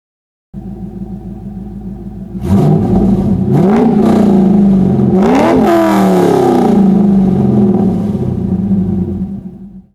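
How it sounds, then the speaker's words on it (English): A C5 Corvette with long-tube headers idles with a deep rumble, then is blipped several times, each sharp rev rising and falling before settling into a loud, throaty, sustained drone close to the listener. "the exhaust on this car is pretty phenomenal."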